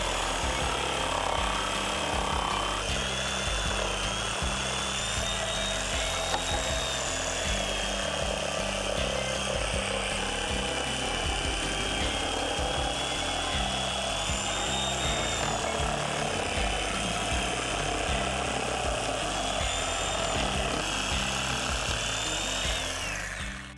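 A saw cuts through wooden boards with a nail buried underneath, a steady, loud, continuous rasping and grinding with a metallic edge, running unbroken for the whole stretch.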